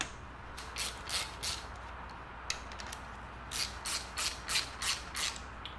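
A hand ratchet tightens fuel pump bolts on a big-block engine, two bursts of quick repeated clicking strokes, near and clear, with a quiet gap between them.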